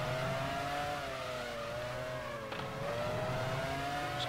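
Formula 1 cars from the F1 Challenge 99-02 racing game, a loud continuous high-pitched engine whine that rises and dips as the car shifts through gears, with a brief click midway and no talk.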